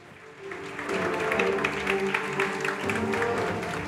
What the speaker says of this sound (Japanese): 皆様改めて大きな拍手お願いします